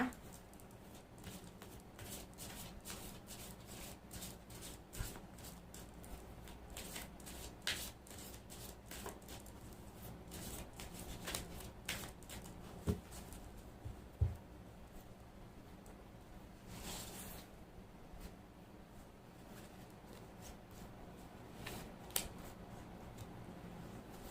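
Oracle cards being shuffled, a soft continuous riffling and patter of card edges with scattered light taps, quiet and close, no talk.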